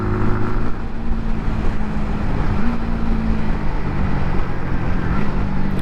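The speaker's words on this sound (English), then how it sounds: "Nice bit of engine braking." A 125cc motorcycle with an 18-inch front wheel engine-brakes while riding, its low engine drone shifting in pitch over steady wind rush, loud and continuous without speech.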